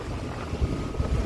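Steady wind rushes past a moving bus travelling from Tirunelveli toward Kerala through farmland, a continuous low roar with a few soft buffeting thumps and no voices.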